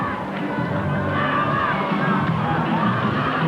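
A capacity stadium crowd roars and cheers at the 1992 Pacific Cup rugby league final between Tonga and Samoa at Carlaw Park, Auckland, a dense, steady wall of shouting and whoops throughout.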